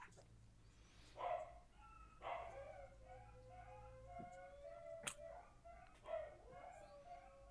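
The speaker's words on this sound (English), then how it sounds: "My dogs are going crazy in the background." Several dogs bark and yip in the background, in irregular bursts throughout, fairly faint and distant, with a few whimpers between the barks.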